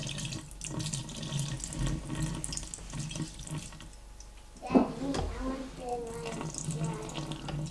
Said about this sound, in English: You're gonna strain off this water.